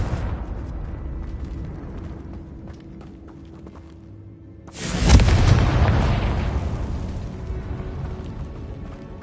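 A Confringo spell blast in Hogwarts Legacy erupts as a single loud, close explosion after a quieter stretch of ambient game sound, then rumbles and fades slowly over several seconds.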